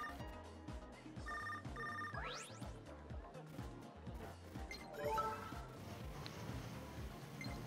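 A telephone rings in a Nintendo Switch video game, short bursts of electronic ringing amid background game music and clattering effects, moderately quiet.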